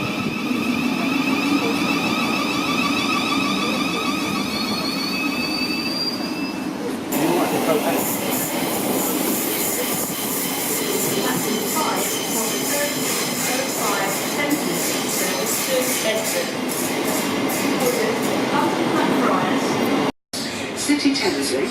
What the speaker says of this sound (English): This train is formed of 12 coaches.